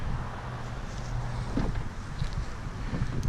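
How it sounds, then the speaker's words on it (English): Wind blowing outdoors, a steady rough rumble buffeting the microphone throughout, with no talking. "It's a little windy out here."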